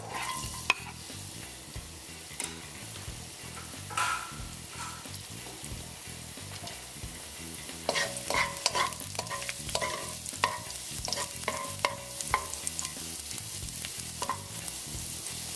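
Garlic sizzles and fries in a tablespoon of cooking oil in a hot pan, with steady crackling that grows busier midway and a spatula scraping and stirring in an irregular rhythm throughout, with no talking.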